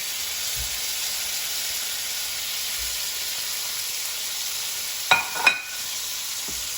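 Steak sears on a hibachi griddle with a steady bright sizzle and hiss, broken near the end by a couple of sharp metallic scrapes and clinks.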